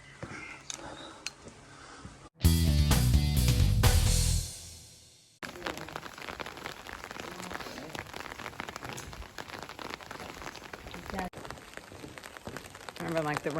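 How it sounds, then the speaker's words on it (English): Light rain patters steadily on the ground in an Apennine mountain town, with a brief loud burst of noise early on before the soft patter settles back in. "Just raining a little bit"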